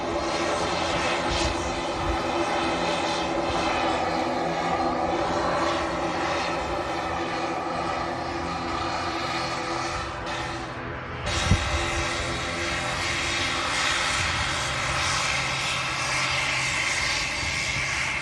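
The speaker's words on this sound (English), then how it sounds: "Aer Lingus ATR 72 coming in from Dublin, kicking the show off this morning." An Aer Lingus ATR 72 turboprop arriving from Dublin at Manchester Airport, a steady, loud engine and propeller roar holding throughout with a brief dip near the end.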